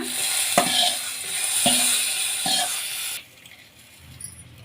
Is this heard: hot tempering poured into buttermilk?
yes